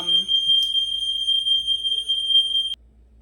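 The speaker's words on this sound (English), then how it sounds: "a little smoke detector went off" A smoke detector set off by an oven broiler emits one loud, continuous high-pitched alarm tone for nearly three seconds before cutting off abruptly, with a voice briefly audible at the start.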